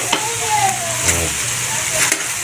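Onion and ginger sautéing in a pan for chicken adobo, with a steady sizzle and brief clinks of stirring, heard close up and without talk.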